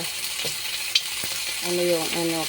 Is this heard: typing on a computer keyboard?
no